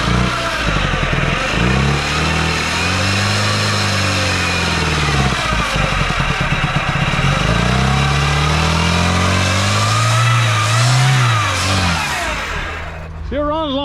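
Engine of a 1996 Oldsmobile Cutlass on its first start in revival, revving loud and close in repeated rising and falling surges, dropping off near the end.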